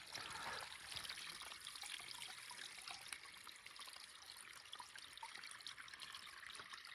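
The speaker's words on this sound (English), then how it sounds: "Water source is flowing." A trail water source on Mt Gleason trickles and flows steadily, a continuous close splashing dribble of water with no talk.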